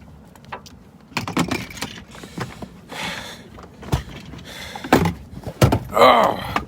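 A car door swings open and shuts at close range, giving a few sharp thunks and latch clicks among light rustling and movement.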